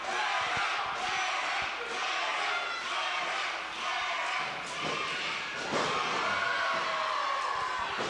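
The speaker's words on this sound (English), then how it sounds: "And the crowd's getting behind Eric Moore quite nicely." Wrestling crowd at a CCW event cheering for Eric Moore, a loud steady roar of voices with scattered shouts and thuds from the ring, under commentary talk throughout.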